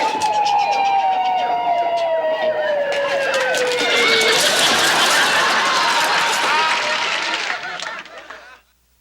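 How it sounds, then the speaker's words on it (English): A wailing siren sweeps loud and close, its pitch dropping as it passes, then fades away over roughly nine seconds. "Man, it was an ambulance."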